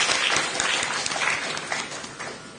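A debate audience applauds steadily, a dense wash of many hands clapping at close range with no talk over it.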